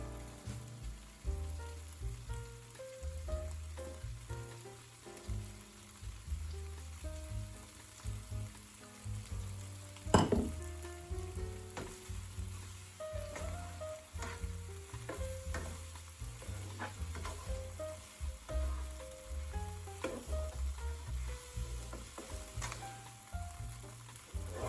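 Spinach tossed into a sizzling pan of chicken tikka masala gives a continuous close frying crackle with frequent scraping stir strokes and one louder clatter midway, no talk over it.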